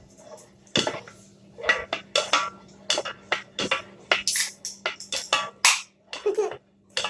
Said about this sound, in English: You don't want that milk to burn, so you gotta keep on stirring.